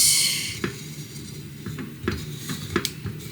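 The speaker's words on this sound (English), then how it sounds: "Every day I have to stir it like this," A clove and fenugreek oil mixture being stirred in a pot over low heat, with a spoon scraping and tapping against the sides in a quiet, irregular rhythm, alone.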